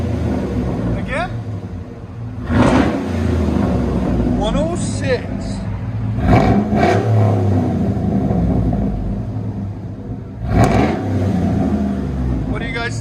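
A 2008 Chevy Silverado 2500 with a 6.0L V8, dual exhaust, Cherry Bomb Extreme mufflers and cut-off tailpipes rumbles at idle and surges in three sharp revs, with people talking over it throughout.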